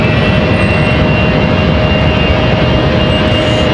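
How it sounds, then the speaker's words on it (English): A Delta Airlines Airbus A319 spools up its jet engines for departure at Raleigh-Durham airport, giving a steady, loud roar with a sustained tonal buzzsaw whine held throughout, no voices. "this buzzsaw sounding A319 ready to roll"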